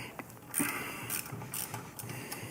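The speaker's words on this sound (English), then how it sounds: "Those pinch bolts are going to be a 1/4 inch hex. So we're going to get up here, release this top one, release the middle one." A hex key loosens quarter-inch pinch bolts on a fat-tire bike fork, giving faint close metallic ticks and light clicks that come irregularly over low background noise.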